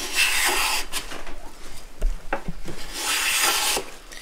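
A Woodriver block plane takes end-grain cuts across eastern maple, making repeated rasping, scraping strokes with short pauses between passes, close up and alone.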